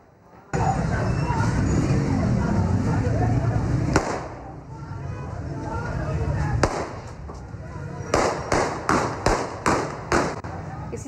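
Gunfire erupts during a clash between two groups at Slim Town ground in Lahore: about six sharp, loud shots in quick, fairly even succession near the end, following a stretch of noisy crowd sound and a couple of isolated bangs.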